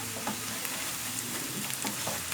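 Chicken fries in a pan as pepper powder, chili powder and garam masala are stirred in. A continuous close sizzle is broken by scraping stirring strokes, with no talking.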